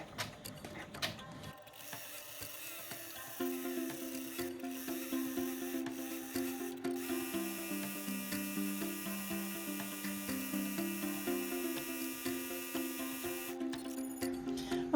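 An embroidery machine stitching a candy cane design onto a lantern, giving a steady rhythmic mechanical whir with repeated pulsing stitch strokes and shifting tones. It runs continuously for over ten seconds, faint and close, with no talk over it.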